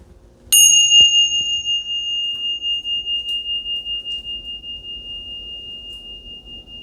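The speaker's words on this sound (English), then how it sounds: "Let's ring the bells." A single bell strikes once with a bright, pure ring, then slowly decays in a long pulsing shimmer that fades over several seconds in a quiet room.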